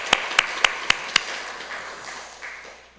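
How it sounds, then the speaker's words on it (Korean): A church congregation claps in a few sharp, evenly spaced beats, then the applause dissolves into a softer, scattered patter that fades away. "하나님께 영광의 박수 올려드리도록 하겠습니다."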